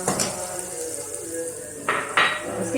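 Shredded cabbage goes into a hot pan for light frying while cooking chicken fried rice, bringing metallic clatter of utensil against pan, with bursts of hissing sizzle near the end.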